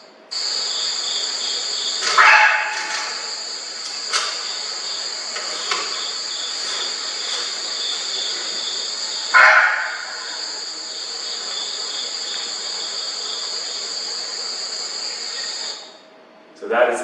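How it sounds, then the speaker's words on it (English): In an Ethiopian forest, a barking deer gives two short, sharp alarm barks several seconds apart. The calls stand out over a loud, continuous drone of insects. "So that is the sound that you hear from the barking deer."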